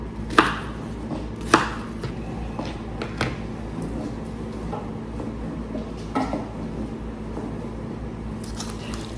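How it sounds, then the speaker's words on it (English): Knife cutting an onion into small pieces on a board for pozole rojo, a few sharp chops spaced irregularly among quieter slicing taps, close up with no talk. "This is how I cut the cebolla, guys."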